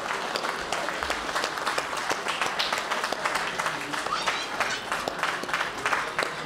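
A crowd at a Bihar and Jharkhand Diwas community gathering claps steadily and loudly, with the sustained applause holding an even level throughout and faint voices mixed into it.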